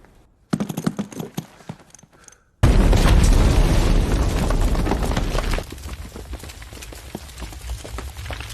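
A grenade goes off in a war film with a sudden deep, loud blast after some scattered thuds, then a long rumbling roar that slowly fades into crackling debris.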